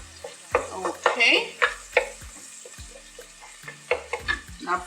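Spices, garlic and chili peppers fry in a pan while a spoon stirs and scrapes in short bursts over a soft, steady sizzle, close by and fairly quiet.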